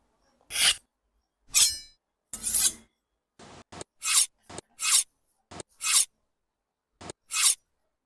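A knife cuts slits into raw chicken being prepared for grilling, heard as about ten short, crisp scraping strokes with brief gaps between them, close up and with no talking.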